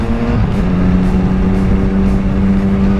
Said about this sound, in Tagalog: Napapatingin yung mga tao tapos pumuputok yung pipe natin.